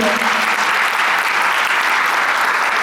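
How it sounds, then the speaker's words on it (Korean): A packed convention hall breaks into loud, sustained applause at an awards ceremony, an even roar of many hands with no speech. "우리 감사의 표시 박수 한번 쳐볼까요?"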